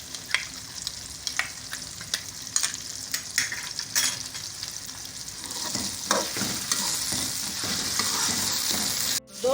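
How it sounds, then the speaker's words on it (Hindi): Ginger garlic paste fries with whole garam masala in a pot for matar pulao, a continuous close sizzle and crackle with repeated stirring scrapes, the frying growing denser and louder toward the end. "दो से 3 मिनट हमने बुनाई कर ली है खड़े गरम मसाला के साथ।"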